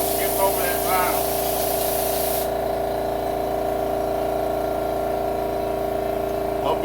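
An air compressor runs with a steady, droning hum in a shop where a 1959 Ford 300 is being restored, with a hissing spray during the first couple of seconds.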